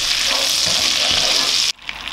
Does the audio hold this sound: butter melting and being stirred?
yes